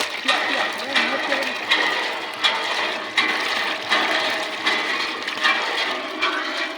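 Strong gushing water from a hand pump in hilly country, surging in a steady rhythm with each stroke of the handle, close and loud, with faint voices in the background.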